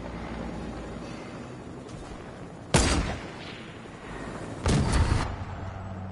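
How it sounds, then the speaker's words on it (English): A gold charged shotgun in Fortnite fires twice, a few seconds apart, each a sharp loud blast with a short rumbling tail over a steady background of game ambience. "Gold charged shotgun"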